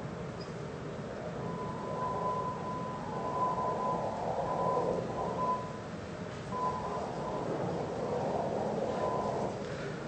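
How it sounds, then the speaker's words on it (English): EEG brain-wave frequencies shifted up into the audible range give a faint, continuous rushing wash with a thin steady tone running through it, heard through a sound system in a hall. "This is actually the frequencies of all the brain waves brought up into the audible range so that you can hear them."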